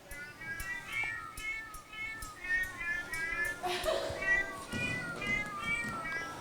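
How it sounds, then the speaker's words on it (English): A digital cat piano app plays a run of cat meow samples, a series of short, close, tuned meows in a rhythmic sequence, with a person talking faintly over part of it. "I'm going to show you the cat piano, if I can find it."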